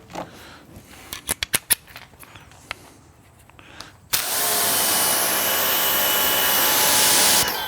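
An AR Blue Clean pressure washer fitted with a 2.5 nozzle. A few sharp clicks from the gun come first, then a sudden loud, steady hissing spray roars on and holds at close range.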